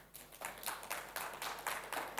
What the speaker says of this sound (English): can we open digital resources with applause?